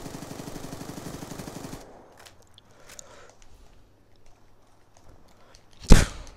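Gunfire in a sniping video game: a rapid, rattling burst of shots at the start gives way to quiet, scattered game sounds, then one loud, close shot near the end.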